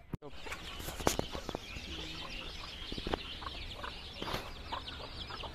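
Chicks cluck softly nearby against a noisy outdoor village background, with occasional sharp clicks and rustles.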